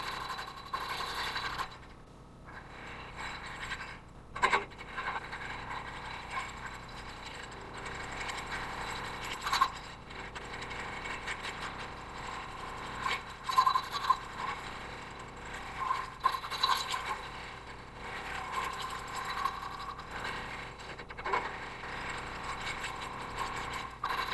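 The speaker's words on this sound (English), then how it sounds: "Real gentle, kind of basically scraping the sides." A wood-lathe tool gently scraping the inside of a spinning wooden scoop, a continuous soft rasping rub that keeps going with small fluctuations and occasional scratchy peaks.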